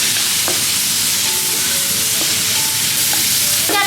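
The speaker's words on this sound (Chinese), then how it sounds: "锅里放油，来一点豆瓣酱，把肥肠倒进去爆炒一下" Pork intestines and bean paste hit hot oil in a wok, giving a loud, continuous close sizzle with occasional scrapes and clacks of a stirring utensil.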